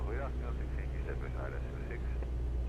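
Steady drone of an FK9 Mark 4 microlight aircraft engine in flight at 3,000 feet as the throttle is eased back, a constant low hum throughout with someone talking over it.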